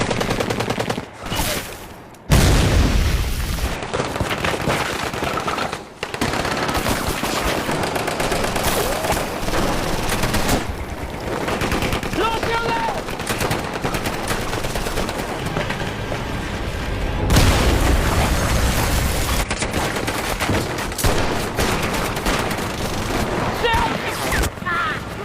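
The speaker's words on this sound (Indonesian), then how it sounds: "mereka langsung disambut tembakan dari tentara Uni Soviet" Soviet soldiers in a war-film battle scene open up with machine guns and rifles, dense bursts and single shots cracking loudly and almost without pause, with occasional heavier booms.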